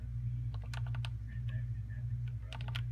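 Keys tapped in short quick bursts on a keyboard while a zip code is entered for a manual card transaction, close and clear over a steady low hum.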